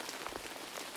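Steady rain falls in a forest, a soft, even hiss of drops pattering on surfaces, continuous and gentle with no voices.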